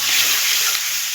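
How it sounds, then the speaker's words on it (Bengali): Spice masala frying in oil for a vegetarian potol rosa, a dense, even sizzle close up and alone, with no talk. "এবার দেখুন মশলা থেকে তেল ছাড়তে শুরু করেছে"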